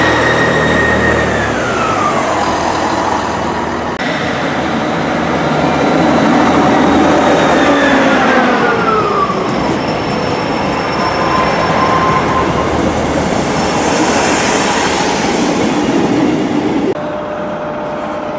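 A Class 158 diesel train pulls away in South Wales with a rising engine drone, squealing wheels and rail rumble. It stays close and loud throughout, with no voices.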